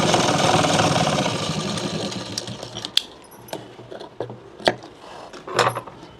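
Sewing machine stitching the waistband onto a small girl's blouse, running in a fast steady whir at first, then slowing into scattered short bursts and clacks as the fabric is handled.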